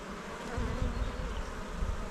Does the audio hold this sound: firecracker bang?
no